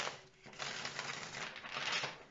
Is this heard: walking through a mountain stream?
no